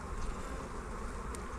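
Honey bees buzz in a steady dense drone during an outdoor farm hive inspection, close and continuous with no talk.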